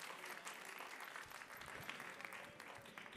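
Faint, steady applause fills the room at an Italian film press conference, a continuous even patter of many hands with no break.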